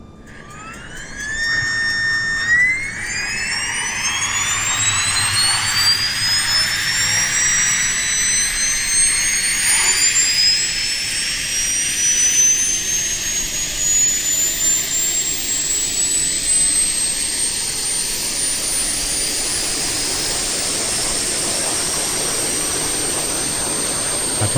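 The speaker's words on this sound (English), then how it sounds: "Listen to the APU fire up." Embraer E190 auxiliary power unit spooling up in a flight simulator, a rising turbine whine that climbs steadily in pitch over a loud, continuous roar, sustained without talk.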